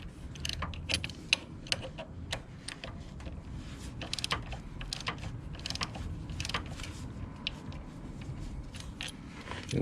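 Ratchet wrench tightening valve cover bolts on a Honda Ruckus scooter, heard as close, quick repeated clicking bursts in short runs with small metallic ticks, steady across the clip without talk.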